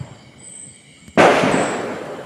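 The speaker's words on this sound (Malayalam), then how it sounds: "നമുക്ക് ഒരു കടുക് വെടി പൊടിക്കാം" After a quiet moment, a small mustard-seed firecracker pops suddenly and keeps fizzing and crackling loudly for about a second, during Vishu celebrations.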